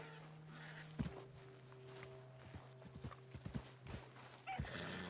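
Horse hooves clip-clop at a slow walk in the video game Red Dead Redemption 2, several uneven hollow knocks over a soft ambient hum, with a brief snort near the end.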